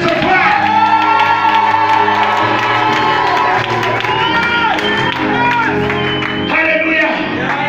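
A church congregation cheers, shouts and whoops loudly, a dense continuous crowd roar with applause and raised voices throughout.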